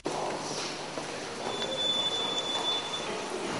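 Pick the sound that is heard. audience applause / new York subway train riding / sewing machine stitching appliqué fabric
new York subway train riding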